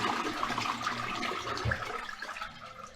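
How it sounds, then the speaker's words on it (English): A clogged toilet in an apartment building flushes, a rushing gurgle of water that swirls steadily for a few seconds, close by, with no talking over it. "flush toilet"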